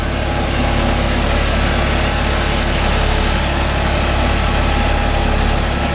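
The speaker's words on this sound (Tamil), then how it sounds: "₹20 லட்சம் வண்டி பாருங்க எவ்வளோ மண் எடுக்குதுன்னு" A Deutz-Fahr 80 hp 4WD tractor pulls a five-point cultivator through farmland, its engine droning loud and steady under constant load throughout, with no talk.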